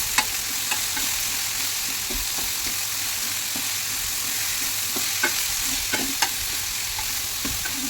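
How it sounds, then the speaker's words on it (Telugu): Ivy gourd, potato and ridge gourd pieces are stirred together in a hot pan for a curry, with a steady sizzle and a run of light spatula scrapes and taps spaced through the mix. No voices are heard. "ఇప్పుడు దొండకాయలు కూడా వేసేసుకోవాలండి మొత్తం మిక్స్ చేసుకోవాలి మొత్తం కలిపేసుకోవాలి మంచిగా"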